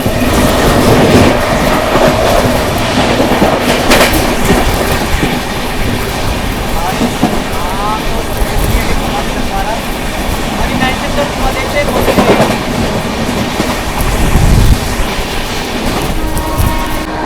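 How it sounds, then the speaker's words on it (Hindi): Trains pass one after another at a railway crossing on the Anand Vihar–Bhubaneswar route, a loud, continuous rumble of wheels with rhythmic clickety-clack and occasional metallic squeals close by, while someone talks over it. "सामने किसी की ट्रेन के साथ क्रॉसिंग होने वाली है"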